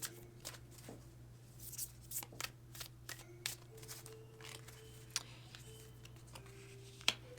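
Oracle cards are shuffled in a quiet room, a series of soft, irregular flicks and riffles with a few sharper snaps, faint over a low steady hum.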